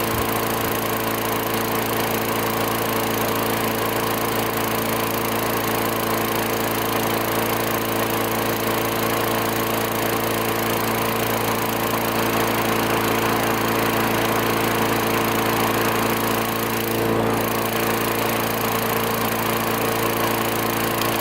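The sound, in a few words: small engine running with new muffler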